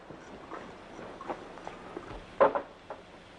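A few soft, uneven hoof clops sound nearby at a slow walking pace, with one sharper knock among them.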